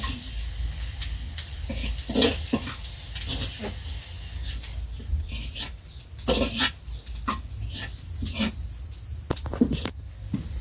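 Hot oil hisses and sizzles steadily as it is added to a pan of wild amanita mushrooms being cooked at home, with scattered crackles and pops over a constant frying hiss and no talking.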